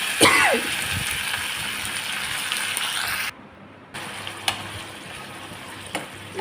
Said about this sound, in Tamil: இதில் வந்து நல்லா கறி போட்டு நல்லா பரட்டிடலாம்